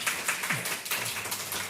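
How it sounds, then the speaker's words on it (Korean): Scattered clapping from a church congregation rises quietly in the sanctuary, a thin, uneven patter of hands that continues steadily for a couple of seconds with no voices over it. "박수 한번 해주세요."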